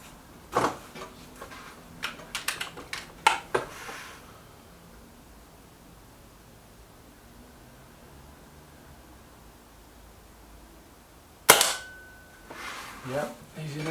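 Weihrauch HW 110 air rifle fired, a single sharp crack standing alone in a quiet outdoor space, preceded earlier by a cluster of brief clicks and knocks.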